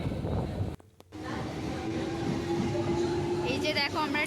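Inside the carriage of a passenger train that is not very crowded, a steady rumble and rattle of the ride runs under nearby talk, broken by a brief dropout near the start.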